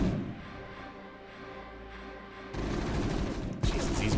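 Units in the StarCraft Evo mod fire on a Baneling, a dense rattle of rapid gunfire that swells into heavier overlapping bursts near the end.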